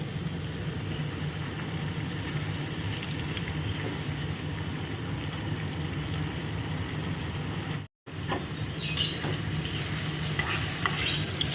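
Potatoes and spice masala cooking in oil for a fish curry, stirred steadily through a continuous bed of sizzle and scraping, with one brief dropout near the end and no voices.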